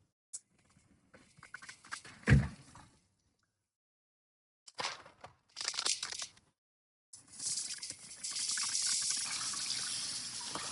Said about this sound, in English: Right now, I'm just washing the potatoes.